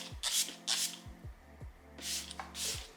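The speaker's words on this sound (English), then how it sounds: "Let's set with the Milk Makeup Hydro Grip Set and Refresh Spray." Milk Makeup Hydro Grip Set and Refresh setting spray is misted in four short hissing bursts, sounding close and fairly quiet, with soft handling noise between the bursts.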